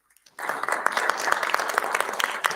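Sudden burst of audience applause at a library's literary award ceremony, starting sharply from silence and continuing as steady dense clapping in a hall.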